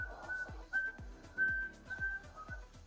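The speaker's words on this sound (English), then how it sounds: "It's a weak whistle, but it's whistling." A blown glass piece gives a thin, faint whistle that holds a steady high tone in stretches, over repeated low thuds and a soft rumble.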